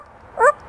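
A talking parrot gives a single short bark-like call imitating a dog, a brief, fairly clear yelp standing alone in a quiet room.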